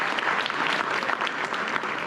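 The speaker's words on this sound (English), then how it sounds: "one more round of applause for our local coaches, Coach Barrows, Coach Cole, Coach Lee" Applause from a banquet crowd honoring boys basketball coaches, a dense steady wash of many hands clapping close by for about two seconds.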